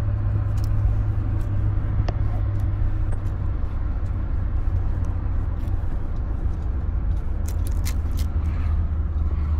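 Inside a moving car, a steady low engine and road rumble fills the cabin throughout, with occasional faint clicks and scrapes over it.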